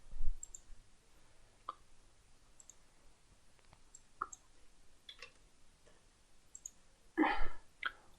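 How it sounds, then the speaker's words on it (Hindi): Sharp, isolated computer mouse clicks on a save button ring out close and quiet over near-silence, spaced irregularly, with a denser cluster of clicks toward the end. "और फिर यहाँ सेव बटन पे क्लिक कर देता हूँ।"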